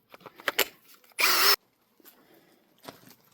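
A power drill driving screws into wood on an Oshkosh P19 rescue truck build, one loud close whirring burst of about a third of a second amid quieter handling clicks and rattles.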